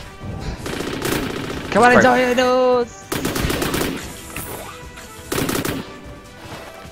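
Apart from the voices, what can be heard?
gunfire from a pistol in the video game ORION: Dino Horde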